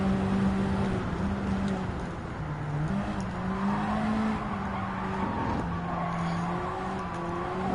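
A Honda Civic GT500 race car in Gran Turismo 7 drones steadily through a lap at the Nürburgring, its engine pitch rising and falling through gear changes, with tire squeal mixed in throughout.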